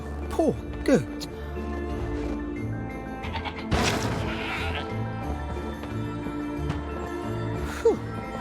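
A goat in the video game Trine 4 gives a few short wavering bleats near the start and again near the end, over steady game music with a crash in between.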